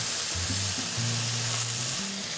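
Venison browning in a cast iron skillet gives a steady, close sizzle that runs unbroken throughout, with a faint low tonal hum beneath it.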